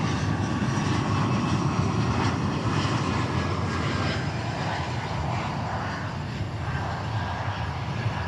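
A Lufthansa airplane at DFW Airport gives off a steady, loud engine roar with a broad rumble that holds throughout, with no talking.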